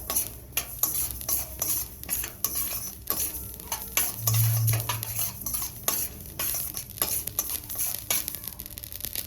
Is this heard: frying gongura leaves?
yes